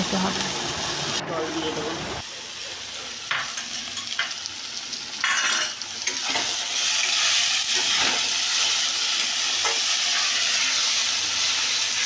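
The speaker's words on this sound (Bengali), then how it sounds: "নিচে টমেটো বাটা দিয়ে একটু ভালো করে নাড়াচাড়া করে" Onion, garlic, ginger and chili fry in oil with tomato paste for a katla fish curry with cauliflower and potato, giving a loud, steady sizzle with repeated stirring scrapes throughout.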